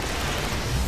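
A bomb in the Destiny video game goes off as one loud, dense blast of broadband noise filling the whole short moment with roar, without any voices.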